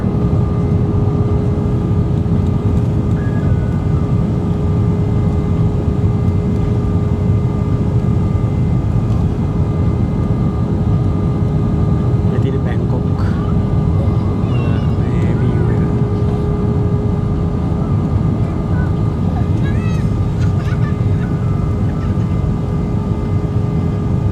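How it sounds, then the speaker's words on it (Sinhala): Steady loud airplane cabin roar on a Hanoi to Bangkok flight during the landing approach with flaps lowering, a constant engine drone with a faint tonal hum and occasional small clicks and shifts. "දැන් ලෑන්ඩ් කරන්න හදන්නේ."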